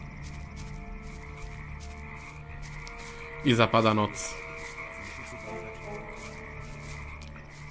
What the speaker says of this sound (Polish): Fajnie, żaby zaczęły kumkać, nie?